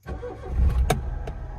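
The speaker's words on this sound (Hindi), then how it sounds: "तो देखिए स्टार्टिंग बिल्कुल गाड़ी की एक्यूरेट है।" A Maruti Alto K10 petrol car engine cranks and catches, a short starter whirr rising into a steady idle, close and loud.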